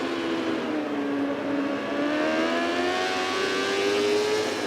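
Motorcycle engine in the VR46 racing video game revving steadily as the bike climbs through the gears, a continuous whining drone with rising pitch sweeps, loud and unbroken throughout with no talk over it.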